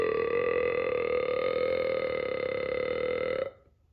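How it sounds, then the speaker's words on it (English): A cartoon monster's long, steady burp drawn out into a tone like a sung ballad, loud and unbroken for several seconds before it cuts off abruptly. "Mike burped out a beautiful ballad."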